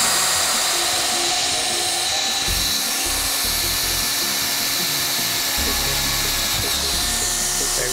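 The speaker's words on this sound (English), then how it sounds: "Now we'd be ready to drill." A hot tapping machine's boring bar drills into a pipe, a loud, continuous mechanical grind droning on without a break, a harsh, steady whir close by.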